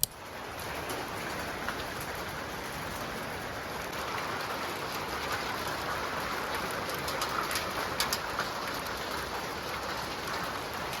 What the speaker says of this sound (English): The raining is so weird.